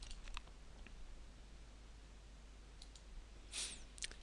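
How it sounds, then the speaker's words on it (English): Computer mouse clicking the OK button in SPSS statistics software, with a few faint, sharp clicks scattered over quiet background hiss and one slightly louder click cluster near the end. "So let's click OK."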